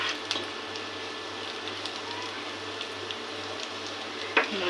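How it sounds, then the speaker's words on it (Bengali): Chopped onion and green chili fry in a pan for fried rice, giving a soft, steady sizzle throughout with a brief clatter near the end. "প্রথমে পেঁয়াজ কুচি আর মরিচ কেটে ভালো করে লাল করে ভেজে নেব।"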